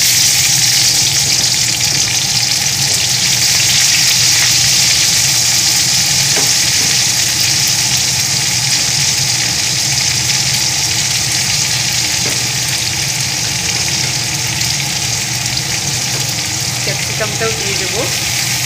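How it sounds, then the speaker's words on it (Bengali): Onion and capsicum frying in oil for chili chicken, a loud, dense sizzle that fills the whole stretch, with a few faint clinks of stirring near the end. "এবার আমি ক্যাপসিকাম আর পেঁয়াজটা ভেজে নেব"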